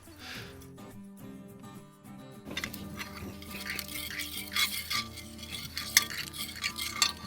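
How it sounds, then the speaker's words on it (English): Butter and finely minced garlic in a cast iron pan over a grill fire, with scraping and stirring first, then a rising crackling sizzle, close and growing busier toward the end. "I'm gonna get the cast iron onto the fire, and then I'm gonna place in about a half a stick of butter onto that"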